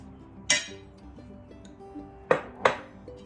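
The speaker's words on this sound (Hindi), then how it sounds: "ये जिंजर गार्लिक का पेस्ट है, इसको ले लेंगे 2-3 चम्मच" A spoon adds ginger garlic paste to a dish for chicken biryani. Three sharp metallic clinks against the dish ring out, one early and two close together near the end, over a faint background hum.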